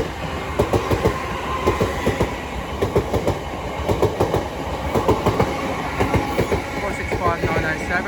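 Southeastern class 465 and 466 electric units run through New Cross from London Charing Cross toward Tunbridge Wells, close and loud, with a steady rumble and a rapid rhythmic clatter of wheels over rail joints.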